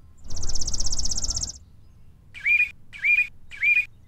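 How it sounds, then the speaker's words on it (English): Bird song with two sounds at once: a rapid buzzy trill over a low rattling note, then a pause and three evenly spaced whistled calls, each bending in pitch, clear and close against quiet background. "That's how birds can make two sounds at once."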